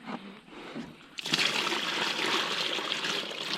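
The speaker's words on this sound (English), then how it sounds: "A little bit of water in there. I'll put a bit more water in this one." Water is poured into a bucket outdoors, a quiet start then a sudden steady gushing splash and slosh that continues close by for a few seconds, with no talking.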